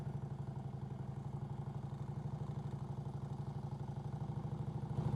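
A motorcycle engine runs steadily at low speed through a slow leaning turn, its fast regular pulsing beat clear and close with no talk over it.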